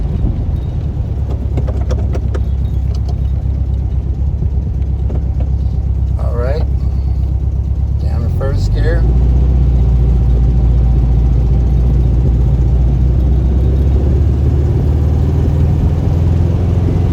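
A car engine in Herbie works up through the gears on a straightaway, a loud, steady drone that rises in pitch and then settles lower after a shift partway through, with brief bits of speech over it.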